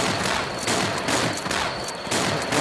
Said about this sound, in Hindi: मैं जो ऊपर दिए हैं उसे इस्तेमाल नहीं करूँगा, सिर्फ गन से खेलूँगा।